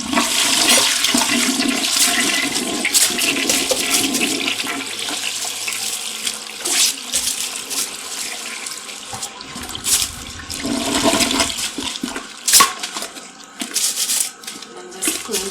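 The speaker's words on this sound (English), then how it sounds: "Alright, and now we're just gonna flush." A toilet flushes just after its bowl has been scrubbed clean, a loud rushing gush of water that swirls and gurgles down, then settles into a longer refill trickle with scattered bumps and clatters, close by and alone.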